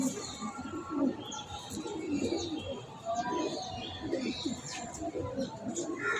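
A pigeon from Rampur coos nearby in soft, repeated low calls, mixed with faint chirps and light background noise.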